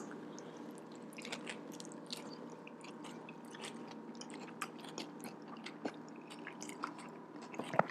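Crisp bites and wet chewing on a crunchy garlic shrimp taco loaded with jalapenos and sour cream, close and fairly quiet, with a steady run of small crackling crunches and no voices.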